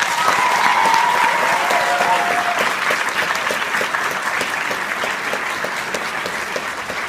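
An audience at a celebration claps steadily in a dense, sustained round of applause, loud at first and tapering slightly over several seconds, with a brief whistle or voice tone early on.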